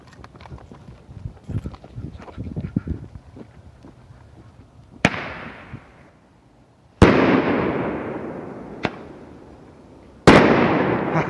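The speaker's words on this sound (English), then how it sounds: "Five shot Christmas candle." A five-shot Christmas candle firework fires several sharp, loud reports, each followed by a crackling, fading tail. Quieter rustling comes before the first shot.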